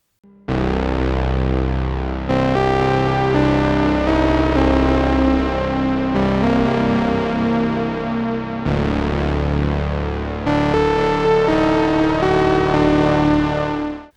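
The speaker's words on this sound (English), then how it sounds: "It means that the base station goes from a monophonic synth to a paraphonic, being able to play two notes at the same time at different pitches" Novation Bass Station 2 synthesizer in paraphonic mode plays two simultaneous pitches through analog drive, delay and reverb, giving loud, sustained, buzzy distorted chords that shift through several held changes with no talk.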